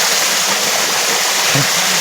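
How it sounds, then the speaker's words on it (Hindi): A river waterfall rushes in a steady, loud, broadband roar that stays constant throughout, with no talking over it. "आपको ये पीछे मेरे बैकग्राउंड म्यूजिक नदी का सुनाई दे रहा होगा,"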